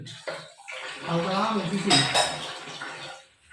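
Water runs steadily while dishes and cutlery are scrubbed clean at home, with a soft clink of pots under someone talking throughout.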